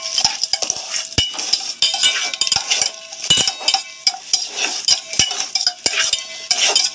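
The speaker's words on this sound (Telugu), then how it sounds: "నేను పక్కన ఇంకో కడాయి పెట్టుకొని కొంచెం నెయ్యి వేసుకొని మనం తెచ్చుకున్న జీడిపప్పు అండ్ ద్రాక్ష వేసుకుందాం ఫ్రెండ్స్" Cashews and raisins fry in ghee in a kadai, with steady sizzling and repeated metallic clicks and scrapes of a spoon stirring against the pan, close and clear.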